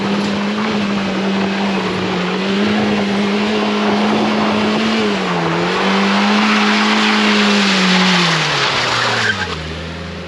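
A loaded car stuck on a rough off-road track spins its tires and skids, engine revving hard and steady for several seconds with a loud close whine and gritty churning, dropping in pitch near the end.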